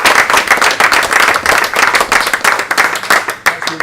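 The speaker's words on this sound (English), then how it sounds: "perhaps we could join in a little bit of applause for these superstars." Loud, close audience applause with sharp individual claps in a quick, uneven rhythm, many hands together, continuous without pause and no talking over it.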